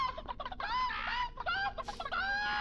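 Chicken clucking in the horror video game Hand Simulator: Horror, a quick run of sharp, nasal clucks and squawks heard close over a low background hum, with no talk.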